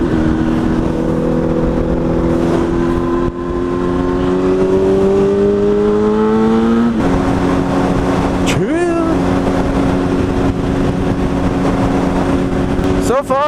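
A Kawasaki ZX-10R motorcycle engine at slow speed, recorded by an external mic, revving loud and close with rising pitch through the gears, a sharp drop as it shifts, then a steady drone with a few quick rev blips.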